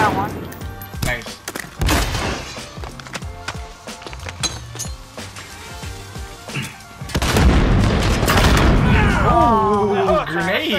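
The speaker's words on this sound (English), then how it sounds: "Oh, grenade." A grenade blast in Call of Duty Modern Warfare online play, a heavy booming explosion rolling out amid game gunfire and music, with players chatting over the action.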